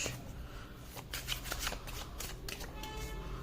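Tarot cards shuffle in a steady run of papery riffs and slaps, close and fairly loud, with a low hum underneath and no talking.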